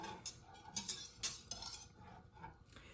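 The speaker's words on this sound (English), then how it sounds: "Kind of stir that up with the whisk a little bit." Whisk stirring a milk mixture for Icelandic skyr in a pot, quiet repeated metallic swishes and light clinks in an uneven rhythm, close and soft with no voices.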